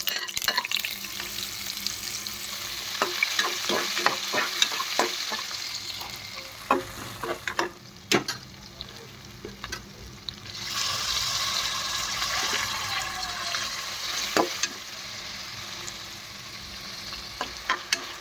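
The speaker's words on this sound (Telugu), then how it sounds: "ముందుగా మనం నెయ్యి వేసుకొని నెయ్యి బాగా హీట్ అయ్యాక దీంట్లో మనం లవంగాలు, దాల్చిన పట్ట ఇవన్నీ వేసుకుందాం" Cloves and cinnamon sizzle in hot ghee as a spoon stirs and scrapes the pan, crackling frying with frequent sharp clicks and clatters, quieter in the middle and then building again.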